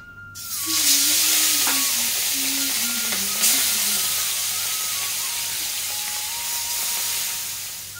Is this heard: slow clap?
no